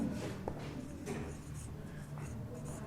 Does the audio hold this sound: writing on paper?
yes